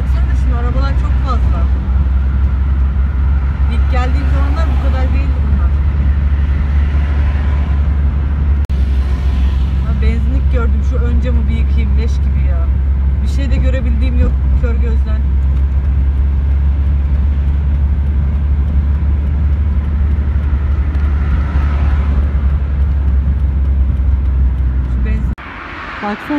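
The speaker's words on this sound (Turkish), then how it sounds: "Baksana şimdi arabalar çok fazla." A steady roar of car traffic fills a busy street in Adana, Türkiye, with a constant low engine rumble and passing vehicles, while someone talks over it throughout.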